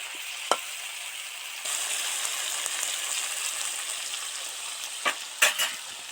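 Okra, tomato and onion fry in a pan with a steady sizzle, broken by a few sharp scrapes and knocks of a spoon stirring the vegetables, close and clear with no talking.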